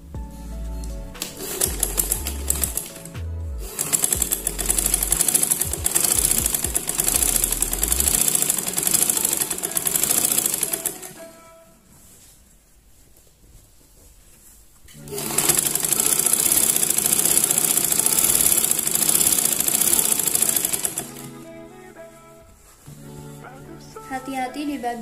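An electric sewing machine runs in two long bursts of steady, close, loud stitching, topstitching the lined seam allowance of a batik flight-attendant-style skirt, with a quieter pause between and speech underneath.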